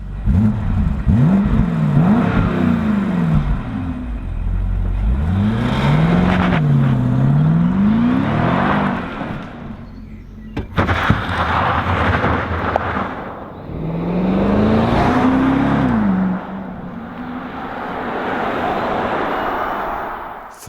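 A BMW X5 M50i's 4.4-liter V8 revs and accelerates in repeated rising and falling pulls, loud and close, with gear changes between surges and no talk over it.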